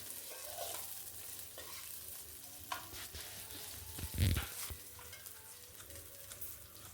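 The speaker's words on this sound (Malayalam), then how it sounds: "ഇഞ്ചിയും വെളുത്തുള്ളിയും ഏകദേശം മൂത്ത് വന്നിട്ടുണ്ട്. അതിലേക്ക് ഒരു 4 പച്ചമുളക് അരിഞ്ഞു വെച്ചിരിക്കുന്നത് കൂടി ചേർക്കാം." Ginger, garlic and green chillies fry in a pan for a lemon and dates pickle, a low steady sizzle broken by stirring scrapes and a brief louder clatter midway.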